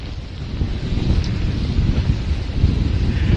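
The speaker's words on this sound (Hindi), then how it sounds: "इस वक्त बहुत तेज हवाएं चल रही हैं मुंबई में।" Strong winds from Cyclone Nisarga buffet the microphone in Mumbai, a steady heavy roar of wind noise with low rumbling gusts throughout and no voices.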